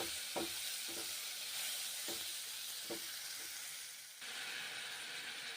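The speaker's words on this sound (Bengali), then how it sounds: "তেজপাতা দিয়েছি, লঙ্কা দিলাম, ভেজে নিচ্ছি পটল" Pointed gourd (potol) fries in mustard oil with bay leaf and chilli: a dense, continuous hissing sizzle, with several soft stirring knocks at irregular intervals, close and steady.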